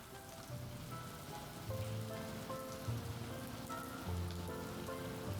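Rain falling steadily in Bangkok, a dense, even patter of drops on surfaces, close and constant throughout, with faint tonal background music and no speech.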